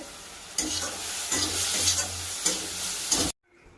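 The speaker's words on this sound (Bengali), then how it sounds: "নারকেলের পুর বানানো কমপ্লিট হয়ে গেছে" Coconut filling for kadam pitha being stirred in a pan, a scraping, sizzling stir close by that runs steadily for about three seconds and then stops abruptly into near silence.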